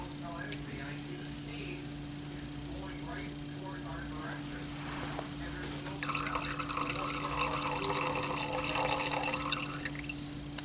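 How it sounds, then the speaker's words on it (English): Combined reagent is poured into laboratory flasks, a soft trickling liquid fill that grows brighter and fuller toward the end over a steady low background hum. "Next we are going to add 8 mils of the combined reagent to each flask."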